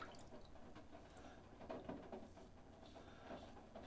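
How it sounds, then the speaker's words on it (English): Rain falls outside in a soft, steady pitter-patter, faint and distant, with scattered drips across the whole stretch and no voices. "Sorry about the pitter-patter of the rain. It's just been raining crazy here today."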